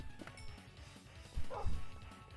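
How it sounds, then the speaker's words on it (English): A dog barks in a zombie survival game, a couple of short yips and woofs standing out near the end over a busy layer of game noise and music. "Why is there a dog in here?"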